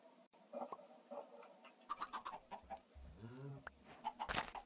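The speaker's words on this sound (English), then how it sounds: "Come on, chicken. I hate chickens." A chicken in the Minecraft video game clucks in a quick series of short, pitched bursts, moderately close and without speech over it.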